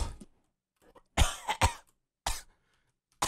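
A hoarse person coughs and clears their throat several times in short, sharp, close bursts separated by silent gaps, during a parkour video game session.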